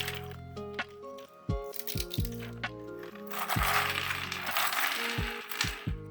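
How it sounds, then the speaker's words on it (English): Plastic supports snapping and cracking off small red demon keychains 3D-printed from a Smiling Friends design, a quick series of sharp, close clicks and crunchy breaks with brief pauses between them, growing into a denser rattle near the end. "I enter gorilla mode and rip off all the supports with unhinged glee"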